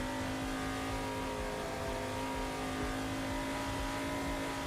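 The URD LMP3 race car engine in a racing video game drones at steady high revs, a loud buzzing tone held close and constant for several seconds with no voices over it.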